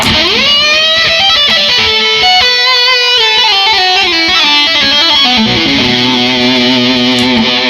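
A heavily distorted electric guitar, played through a distortion pedal, plays sustained chords and sliding notes, thick and saturated, loud and up close with no talking.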